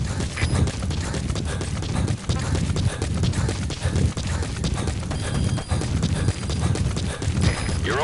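Rapid rhythmic hoofbeats of a galloping horse thud steadily, loud and close, with a dense rumbling background, in the video game Metal Gear Solid V: The Phantom Pain.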